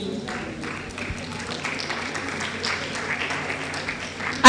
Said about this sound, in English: We are clapping for two great personalities now